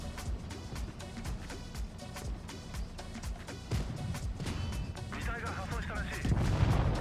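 Tank cannon rounds fire repeatedly at a gun mantlet during a tank battle video game, dense booming blasts and rumbling impacts layered over continuous battle noise, with a heavier burst near the end and talk underneath.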